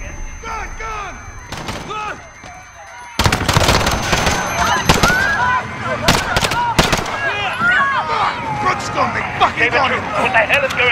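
Gunfire in the Call of Duty: Modern Warfare campaign, a London street attack near Piccadilly Circus: loud rapid automatic bursts and single shots mixed with shouting voices and chaotic yelling.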